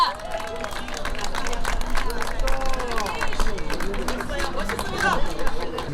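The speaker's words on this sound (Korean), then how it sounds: "다시 한번 큰 박수 부탁드리겠습니다." A crowd claps and cheers at an outdoor Korean election campaign launch rally for a Gangseo district mayoral candidate. The applause runs steadily throughout, mixed with loud chatter and shouting.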